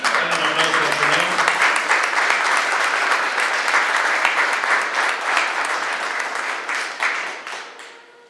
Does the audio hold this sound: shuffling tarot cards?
no